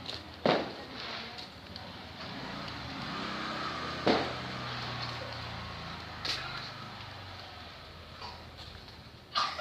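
Firecrackers go off in the dark around a village gathering, a few sharp scattered bangs at irregular intervals, some near and some more distant, over a steady background hum.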